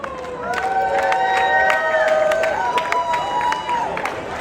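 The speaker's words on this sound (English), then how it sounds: "Why don't you give yourself a round of applause?" A crowd of healthcare workers applauds and cheers at a rally over the threat of federal cuts, with whistles and voices rising above steady clapping, loud and close.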